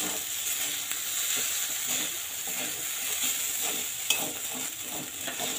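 Soaked sago being stirred into vegetarian sabudana khichuri in a hot pan gives a continuous soft sizzle with light scraping and stirring throughout, close and steady, no voices.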